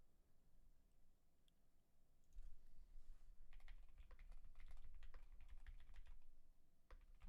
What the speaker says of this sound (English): You could hear him end up typing something in.